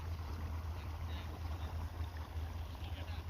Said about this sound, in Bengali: পাঁচের মোটর যারা মোটরে জল দেন তারা অবশ্যই জানবেন